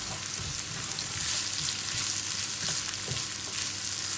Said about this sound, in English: a little pinch of salt as well at the beginning, which is going to help to break down the onions, release the moisture so it can sort of start to saute